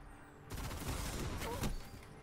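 Burst-fire weapon shots in Destiny 2 Trials, a dense run of rapid cracks starting abruptly and continuing steadily for about two seconds, loud and close with a slightly stronger cluster near the end.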